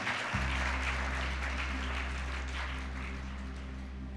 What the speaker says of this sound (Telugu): ఓకే, చప్పట్లు కొట్టి దేవుని స్తోత్రిస్తా.